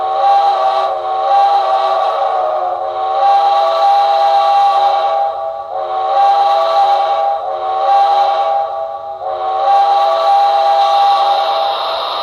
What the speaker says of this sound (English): they have like a little quilling feature that goes at the end of the whistle